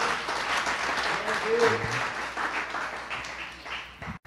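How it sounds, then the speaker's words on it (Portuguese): Church congregation clapping steadily and loudly throughout, with voices and exclamations mixed in under the applause. "Dê uma salva de palmas ao Senhor"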